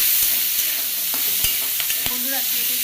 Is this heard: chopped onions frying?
yes